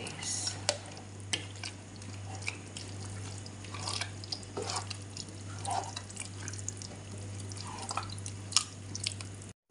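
Filipino-style sweet spaghetti with cheese being stirred in a pan. It gives soft, wet squelching and scraping over a steady low hum, close and moderately quiet, with no talking.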